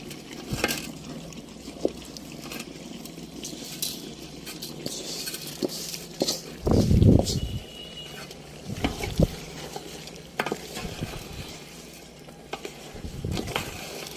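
Fried rice is stirred into cooked, reduced beef for beef biryani, heard as scattered scrapes and clacks of a utensil in the pot with a louder churning burst partway through, close up and without talk.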